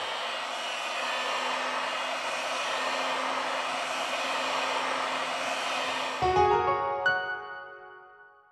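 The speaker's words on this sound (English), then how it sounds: "We apply heat to the device to remove the battery cover." Heat gun blowing steadily on the back cover of a Huawei P Smart Z phone during a battery replacement, a continuous airy whoosh for about six seconds that cuts off abruptly, leaving a fading ring.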